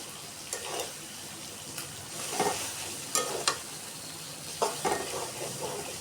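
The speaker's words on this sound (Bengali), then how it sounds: "একটু ভালো করে মশলার সাথে ভেজে নিতে হবে।" Lentils and spices frying in chicken fat, a soft steady sizzle broken by repeated stirring scrapes and knocks of a utensil in the pan, with no talking.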